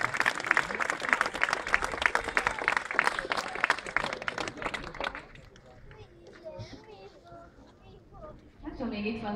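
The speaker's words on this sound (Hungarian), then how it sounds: "Meg lehet tapsolni esetlen." Festival parade crowd in Szombathely clapping for the Savaria Legion reenactment group, a busy burst of many hands for about five seconds that fades into scattered crowd chatter and background voices.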